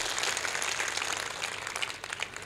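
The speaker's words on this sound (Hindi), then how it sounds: "ताली तो पीटता ही रहा हो तुम" An audience at a religious discourse claps, a dense, fairly distant patter of many hands that carries on steadily and tails off near the end, with no talk over it.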